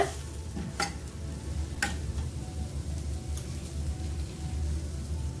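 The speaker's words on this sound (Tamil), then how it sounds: "இந்த மசாலா ஸ்மெல் போற வரைக்கும் நம்ம நல்லா வதக்கி விடணுங்க." Steady frying sizzle of masala sautéing in a pan, with occasional scraping stir strokes, close and moderately loud, no voices.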